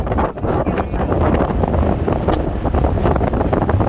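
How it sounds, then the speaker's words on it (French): Strong wind on a boat in Martinique buffets the microphone in a loud, continuous gusting roar, with faint water or boat noise underneath. "beaucoup de vent"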